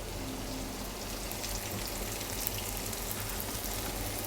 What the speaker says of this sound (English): Onions are browning nicely.